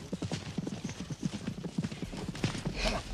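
A horse's hooves clip-clop in a steady, even rhythm at moderate distance, continuing throughout with a faint rustle and a brief whinny-like sound near the end.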